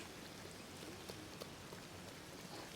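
Steady, soft rainfall from the video game Storybook Vale, a faint even patter of drops spread evenly across the whole stretch with no talk over it.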